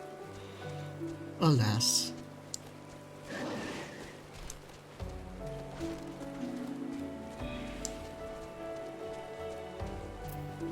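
Steady rain patters through the in-game weather of Final Fantasy XIV, a soft continuous hiss under music and game sounds, with a brief louder burst early on and a character voice speaking.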